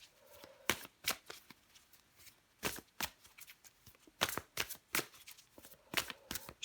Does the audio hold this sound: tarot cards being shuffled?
yes